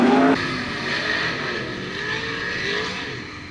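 410 sprint cars race around the dirt oval at Attica Raceway Park during a heat race, engines roaring loud and steady with shifting pitch as cars pass close by.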